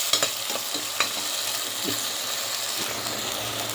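Prawns sautéing in a hot pan, a steady frying sizzle broken by a few sharp scrapes and clicks of stirring near the start, close and continuous with no voices.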